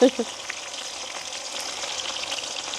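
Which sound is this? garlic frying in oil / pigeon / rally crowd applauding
garlic frying in oil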